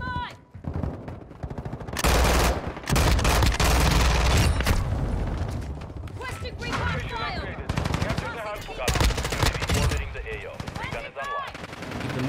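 Rapid automatic gunfire from the FTAC Siege in the video game Call of Duty MW2 comes in several loud bursts of varying length, separated by short pauses, with a voice talking faintly in between.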